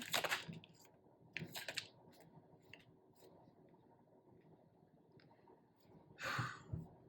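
Tarot cards being shuffled in short, crisp bursts of riffling and flicking, close up and fairly quiet, with soft handling noises between.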